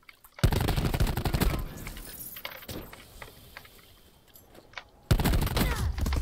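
Pistol fire in a video game match comes in two loud bursts of rapid shots with clinking shell casings, separated by a quieter stretch of scattered taps and clicks.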